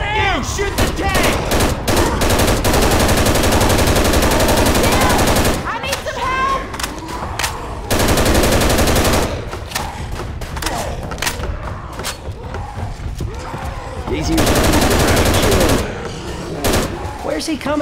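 Sustained automatic gunfire in the zombie shooter Left 4 Dead 2, loud long bursts broken by short pauses, with a few heavy thuds and voices talking over the shooting.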